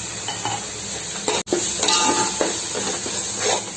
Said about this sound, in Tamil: எல்லாம் போட்டதுனால நல்லா கிளறி விட்டு உடனே நல்லா மூடி வச்சுக்கணும்